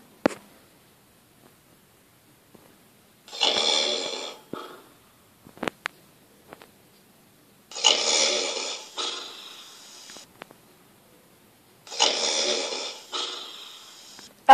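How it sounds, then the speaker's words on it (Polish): A sleeping cartoon character snores in three long, rasping breaths spaced several seconds apart, loud and close, with short snorts and clicks between them in otherwise quiet surroundings. "Ale ojciec zasnął. Strasznie chrapie."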